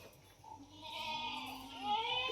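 Goats call out in a couple of long, quavering bleats that rise and overlap, close by and moderately loud against a quiet background.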